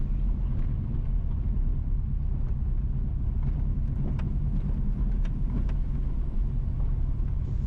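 A car drives along Rio Nuevo Circle, a resort road in St Mary, Jamaica, heard from inside as a steady low engine and road rumble with occasional light rattles and ticks, constant and fairly loud, with no talking.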